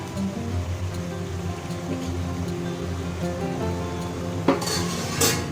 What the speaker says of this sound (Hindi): आहा, ये देखिए इसका सिजलिंग साउंड, क्योंकि अब इसमें सारा मॉइस्चर जो है वो ख़त्म होने आया है